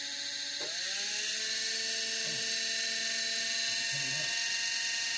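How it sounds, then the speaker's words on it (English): An air conditioner motor running with a steady whine and humming tones that bend and shift as it spins, under a constant high hiss, with a couple of brief knocks. "Oh, it's coming out the air conditioner. I do believe it is working."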